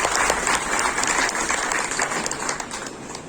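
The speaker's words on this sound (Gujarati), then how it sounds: "આપણે એનું તાળીઓના ગગડાટથી પહેલા તો આપણે સ્વાગત" Applause from the gathering at a managing committee meeting of the Bagasara Nagarik Sharafi cooperative credit society, a steady dense clapping that fills the room throughout, loud and close.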